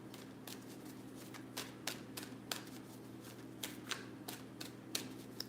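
A deck of cards is shuffled, giving quick irregular flicking and snapping clicks over a low steady background hum, faint and close, with no talking.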